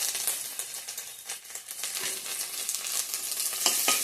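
Dried chilli, bay leaf, onion and panch phoron fry in hot oil, a bright, continuous sizzle close by with occasional stirring scrapes and crackles.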